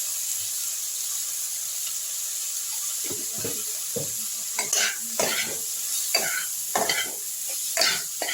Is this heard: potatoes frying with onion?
yes